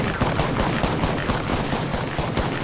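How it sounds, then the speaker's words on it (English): Loud, dense gunfire in the video game Apex Legends, rapid shots blurring into a continuous barrage that fills the whole moment, with no voices. "he's shooting me"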